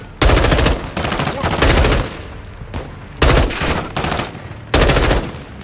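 Loud, close automatic gunfire crackles in the Call of Duty: Modern Warfare 2 campaign, several sustained bursts broken by short pauses.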